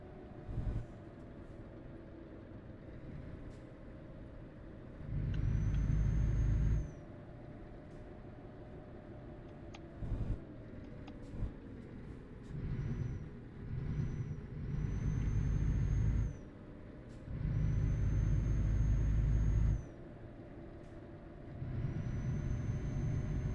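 A car on a side track of a quarry race course, engine humming low and steady, swelling into several louder bursts of acceleration with whining tones, then easing back between them.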